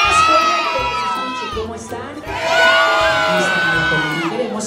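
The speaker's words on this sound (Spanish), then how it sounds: "Hola a todos, griten muy pero muy fuerte." Children at a birthday party shout and cheer loudly together in two big swelling bursts, high excited voices overlapping close by, with a brief dip between them.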